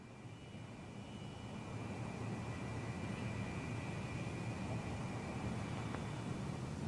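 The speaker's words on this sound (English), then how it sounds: "the plane requires a considerably longer ground roll" A B-52 jet bomber takes off with a steady, sustained roar of its jet engines that swells slightly, heard at a distance and alone.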